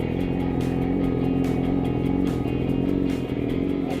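Yamaha R6 sport motorcycle engine running close by, a steady loud idle with a strong low hum and slight revving throughout, no voices over it.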